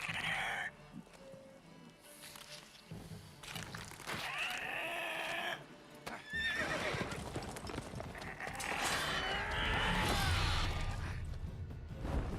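Horse sounds from The Witcher 3: Wild Hunt on PS5, with hoof clip-clop and whinnying calls amid busy game effects, in bursts across the stretch and fairly loud.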